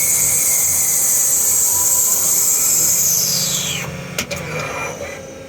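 A CNC lathe cuts a brass part, a loud whining tone rising in pitch as the spindle speeds up, then the whine drops away with a few sharp clicks and clunks as the machine winds down.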